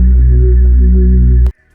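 Layered synth bass in a liquid drum and bass production, a loud, steady low sub and mid bass drone with a faint upper harmonic, sustaining alone before stopping abruptly.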